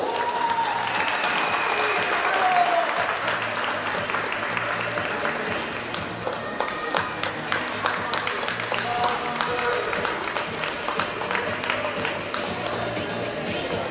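Sustained applause from an audience at a school sports games awards ceremony for the shooting winners, a dense wash of many hands clapping in a hall, continuing steadily for the whole stretch and thinning slightly into scattered claps toward the end.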